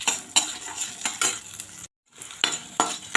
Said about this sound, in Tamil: எல்லாத்தையும் சேர்த்துக்கலாம். நல்லா வதக்கி எடுத்துக்கலாங்க.